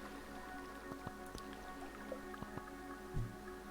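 Water poured onto a wooden puzzle box gives soft irregular drips and small splashes over a steady background hum, with a louder splat near the end.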